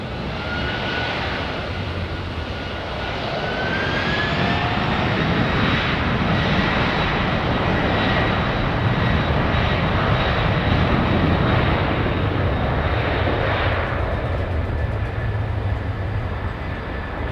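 A jet airliner departing runway 09 roars steadily at full takeoff power, a loud, broad rumble that swells and holds for the whole stretch with no talking.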